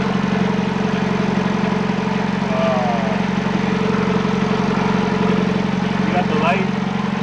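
A boat engine idling at sea on the Sophisticated Lady, with a steady low drone running throughout beneath faint background sounds and what may be voices.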